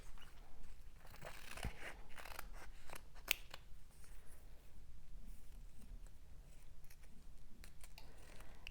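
Fabric scissors snip through quilting fabric for a collage quilt, a steady run of crisp close-up cuts with a few sharper snaps, heard alone without any talking.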